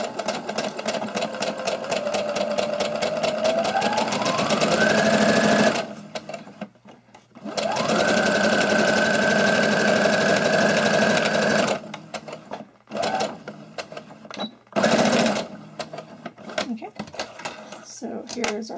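An electric sewing machine stitches a cloth face mask in two long runs, its motor rising in pitch as it speeds up, then stopping; a person talks in the pauses and during the stitching.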